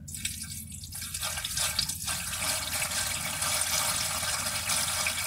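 Diesel fuel is poured by hand straight into a warmed-up engine, roughly a liter, giving a steady close liquid trickle and splash that runs the whole time with no talking.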